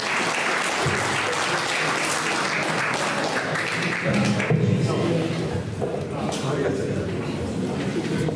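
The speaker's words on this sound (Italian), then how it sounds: "Un applauso a Mauro." Applause at a Sardinian poetry competition in Ardara, a full hall clapping steadily and loudly for several seconds, with voices and a few thumps mixed in as the clapping continues.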